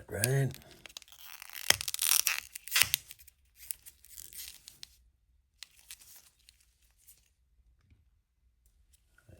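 Crinkling and tearing of plastic, sharp clicks and snaps come close up as a vintage silver bar is fitted into a plastic capsule, in irregular bursts that fade to near silence, with a brief spoken word early on.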